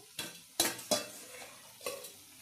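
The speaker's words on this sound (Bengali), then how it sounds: "আবারও একটু নাড়াচাড়া করে নেওয়া হলো।" Cooked bottle gourd curry is stirred in a metal wok, with four quick scraping clanks of a spatula against the pan over faint simmering, close up and with no voices.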